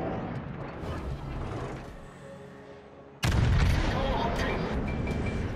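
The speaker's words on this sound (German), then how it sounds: "Ein Heckturm kann noch mal schießen." A battleship's stern turret fires in the naval combat game World of Warships, playing as the Yamato. A big sudden boom bursts in partway through and rolls on loudly over a lower, rumbling battle ambience.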